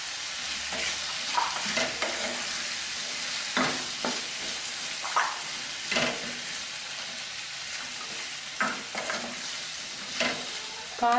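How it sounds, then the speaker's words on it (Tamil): Mixed vegetables sautéing in a pan for vegetable biryani, giving a steady sizzle and frying hiss with repeated scrapes and clinks of a spoon stirring through, and no talking. "காய் கொஞ்சம் நல்லா வதங்கட்டும்."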